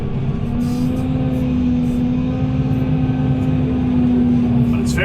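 Skid steer working frozen, gravelly sandy ground during a garage excavation, its diesel engine droning loud and steady throughout with a constant hum and faint scraping.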